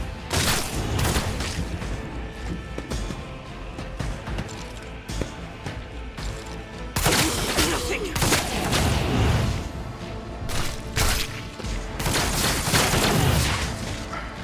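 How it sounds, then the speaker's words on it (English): Rapid gunfire exchange from combat in the video game Warhammer 40K Rogue Trader, with dense overlapping shots, booms and crashes sustained throughout, loud and busy with heavier bursts near the end. "they're just shooting each other"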